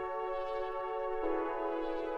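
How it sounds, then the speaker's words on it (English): Sustained atmospheric synth pad holds stacked chords, with a chord change about halfway through, played alone and steady at moderate level in a 90s-inspired sampled beat. "So what I did was I brought in a pad."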